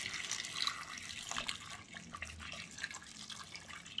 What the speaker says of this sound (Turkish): Suyumu koyuyorum.